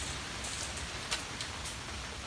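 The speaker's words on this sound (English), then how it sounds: "But all this rain is just coming in right under the greenhouse." Rain falls on a greenhouse and floods in under its edges, a steady close hiss of drops with a few sharper splashes and patters, and no talking.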